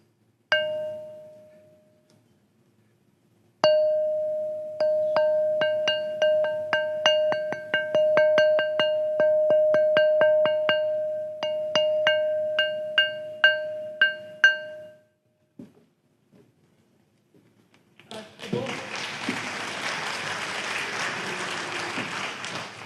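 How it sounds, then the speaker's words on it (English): Carved stones struck by hand ring like bells, each tap giving a clear sustained metallic tone; one strike, a pause, then a long run of rapid rhythmic blows, followed by silence and a steady broad hiss. "this is what I mean by stones ring like bells"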